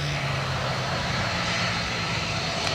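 A Jetstar airliner landing at Gold Coast Airport on a breezy day, a loud, steady engine roar that stays close and sustained throughout with wind noise mixed in, no voices.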